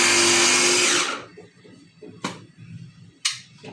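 An electric kitchen grinder whirs loudly as it grinds masala for chicken, then cuts off after about a second, followed by quiet room noise and a couple of brief clinks.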